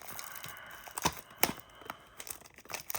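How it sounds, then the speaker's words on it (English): A Topps basketball card pack is torn open with quiet crinkling of foil wrapper and a few sharp ripping bursts, close up and alone. "So just go ahead and rip right into it."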